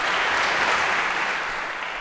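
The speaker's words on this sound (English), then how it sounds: "a round of applause for Louis for getting this right this time" Applause from a lecture-hall audience at a Harvard CS50 computer science class, a dense, steady wash of many hands clapping that fills the room and tapers slightly toward the end, with no voices over it.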